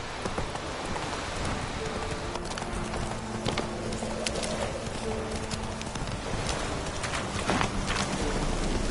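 Horse hooves in the video game Witcher 3, a fast, continuous clip-clop of galloping under a rain-like hiss, with a voice speaking over it.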